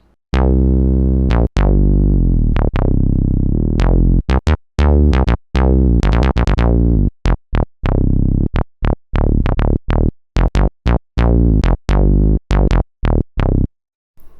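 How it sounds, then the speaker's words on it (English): A deep synthesizer bass preset from a Native Instruments factory library, in a 1976 style, plays a string of punchy notes, some sustained and others short and staccato, loud and up front with no voices. "Now that's a pretty good bass sound."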